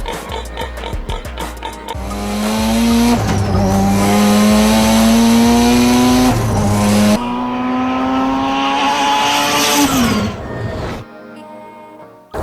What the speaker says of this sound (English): there is also its exhaust sound. There is nothing that sounds like its exhaust.